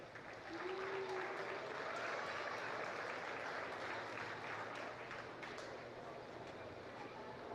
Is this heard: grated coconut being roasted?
no